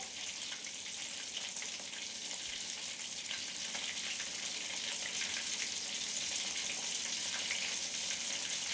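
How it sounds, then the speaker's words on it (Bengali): Prawns frying in butter in a pan, a steady bright sizzle and crackle running throughout, close and even, with no talking. "প্রনটা আমার প্রায় ফ্রাই হয়ে এসছে।"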